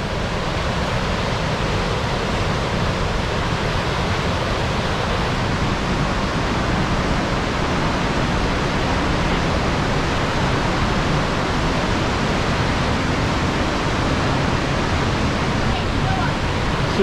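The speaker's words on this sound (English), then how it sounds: "It's Cumberland Falls." Cumberland Falls roars in a dense, unbroken wash of falling water echoing off the surrounding rocks, loud and close throughout.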